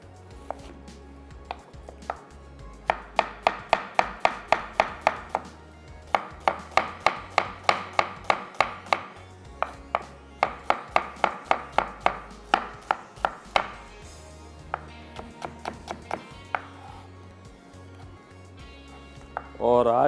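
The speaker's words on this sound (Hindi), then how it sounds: "एक अदद प्याज को करेंगे स्लाइस" An onion is sliced with a knife on a cutting board, rapid rhythmic chopping strokes falling in quick bursts with brief pauses between runs, close and crisp.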